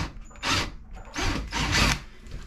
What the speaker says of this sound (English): we're gonna drive in this GRK screw